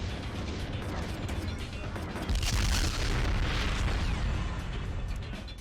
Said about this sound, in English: Loads of missiles.